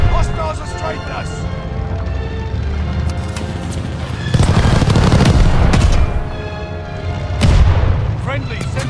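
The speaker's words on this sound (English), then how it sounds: "Friendly sending a glide bomb." Glide bomb explosions in a war video game, heavy booming blasts and rolling rumble over steady battle noise, with two louder bursts; voices talk over the action.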